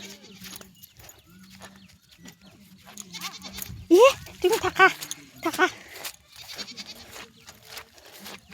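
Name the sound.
goat bleating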